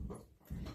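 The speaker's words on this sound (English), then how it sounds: "Please excuse my dog. She's being very good, so I'm just going to let her chew." A female dog chews and whimpers softly in the background, two short bursts of low mouth noise and faint whining separated by a brief pause, fairly quiet and close.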